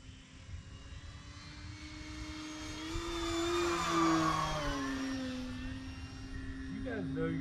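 An E-Flite Pitts S-1S 850mm RC plane flies past with a high, whining electric propeller tone that rises and falls in pitch as it approaches and recedes, steady and moderately loud outdoors, with people talking in the background.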